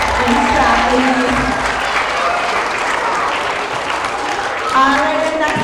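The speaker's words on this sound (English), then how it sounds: "let's give them one more round of applause" Audience applause at a grade 4–6 school character education assembly, a broad sustained wash of clapping from the crowd with voices mixed in and some tonal sound underneath.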